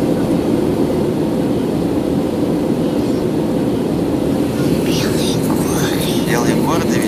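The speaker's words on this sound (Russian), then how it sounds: "Потому что самолет он быстро летает." A steady airplane cabin roar fills the space in flight, with quiet voices talking over it near the end.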